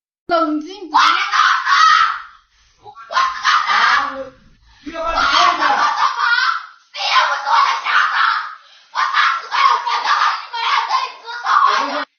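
A woman screams hysterically in long, loud, wailing bursts separated by brief gasping pauses, close and raw throughout.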